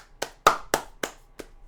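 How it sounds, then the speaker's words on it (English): Five sharp single hand claps, evenly spaced and close, ringing briefly in a quiet room. "Clap."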